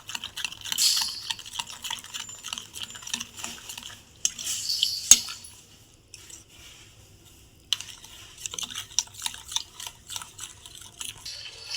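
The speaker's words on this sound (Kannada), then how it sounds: "ಸೊ ಇದಕ್ಕೆ ಚೆನ್ನಾಗಿ ಮಿಕ್ಸ್ ಮಾಡ್ಕೊಬೇಕು" A spoon stirs a powder mixture for a homemade fruit salad in a bowl, with rapid close scraping and clinking strokes that come in bursts and pause.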